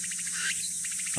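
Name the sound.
cicada singing to find a mate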